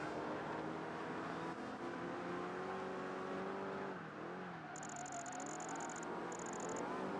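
Race car engine in Project Gotham Racing 3 on the Vegas Strip, droning loudly and continuously with pitch sweeping up and down through corners and shifts, brief electronic tones near the end.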